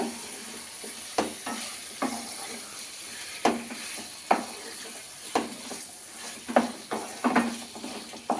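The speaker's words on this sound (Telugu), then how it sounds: "ఇప్పుడైతే చికెన్ వేస్తున్నాను బాగా కలుపుకోవాలి" Chicken pieces are added to a pan of spinach-style curry (chukkakura chicken curry) and stirred, giving a steady close sizzle with repeated scraping stirs and soft clacks throughout.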